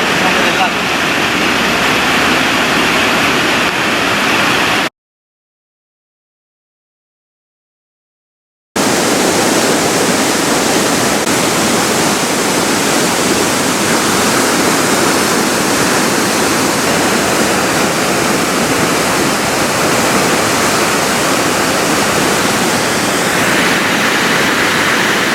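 River water roars through a needle dam in Lucerne, a loud, steady broadband rush that holds throughout, broken once by a few seconds of complete silence.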